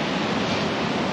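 Ocean waves crash on a beach at night during a camping stop, a steady broad roar of surf with no distinct breaks, fairly loud and alone.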